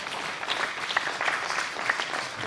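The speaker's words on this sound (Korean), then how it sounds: "우리가 박수 한번 해드리겠습니다" A church congregation claps together, a steady patter of applause from a small crowd that continues evenly throughout, with no talking.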